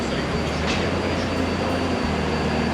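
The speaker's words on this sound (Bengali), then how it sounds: "এখান থেকে আমরা মেট্রো ধরবো, মেট্রো ধরে চলে যাব হট স্প্রিংয়ে।" A Taipei metro train at the station gives off a steady low rumble and hum of rolling stock and platform machinery, close and continuous throughout, with no clear voices.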